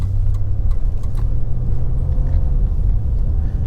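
An old salvage car bought at auction rumbles close by as it pulls away, with a steady low engine drone and slight surges as it moves through the gears.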